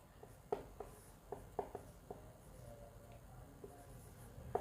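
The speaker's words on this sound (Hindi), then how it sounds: "यहां पर लिखता हूं" Marker or chalk writing on a board while a geometry figure is drawn, a run of short scratchy strokes and taps at irregular intervals, close and fairly quiet, with no talking.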